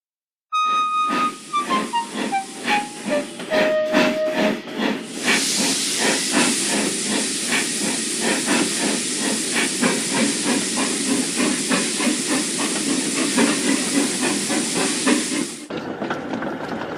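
Austerity steam locomotive releasing steam: a brief falling whistle-like tone at the start, then a loud, sustained close hiss with pulsing rhythm that cuts off abruptly near the end.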